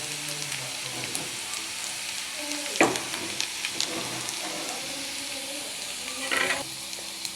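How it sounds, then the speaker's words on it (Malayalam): Chopped shallots crackle and sizzle in hot oil with popping mustard seeds and curry leaves for a jackfruit thoran, a steady close fry with a few sharper spits and stirring clicks, no voices. "നമ്മൾ അരിഞ്ഞു വെച്ച ചെറിയുള്ളി നമുക്ക് അതിലേക്ക് ഇട്ട് കൊടുക്കാം."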